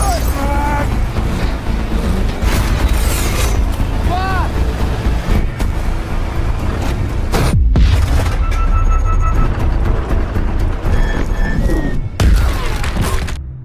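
Tank cannons fire in a war film, loud booms and heavy thuds repeating over a constant roaring rumble, with occasional whistling tones and sharp bursts scattered across the scene.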